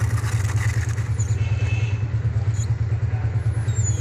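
An e-bike hub motor with a suspected hall sensor fault jerks as the throttle is pressed, giving a pulsing low hum with a rhythmic, uneven clatter that holds steady and close throughout, with no talking.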